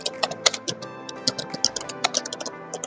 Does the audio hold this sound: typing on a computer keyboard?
yes